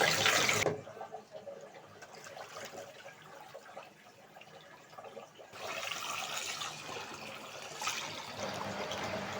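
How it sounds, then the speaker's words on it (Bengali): Raw rice being rinsed and washed in water at home, with steady splashing and trickling water sounds throughout, louder at the start and again toward the end, no talking. "এখানে হচ্ছে আমি চাল আর ভাতটা একটু ভালোভাবে ধুয়ে নিয়েছি"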